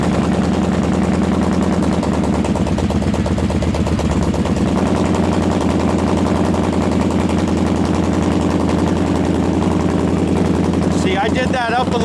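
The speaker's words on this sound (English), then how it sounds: "So you'll know your choke's enough when you hear all those pipes firing." An engine on choke runs with all cylinders firing, making a loud, close, steady, rapid pulsing idle that continues throughout.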